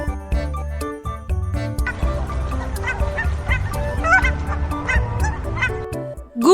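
A goose honks repeatedly in loud, nasal bursts, mixed over a rhythmic background music track.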